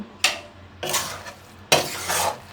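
A pot of biryani made with shapla leaves and fish, sprinkled with shahi garam masala, is stirred with a metal spoon, giving three scraping, clinking strokes against the pot, close and fairly loud, with no talk.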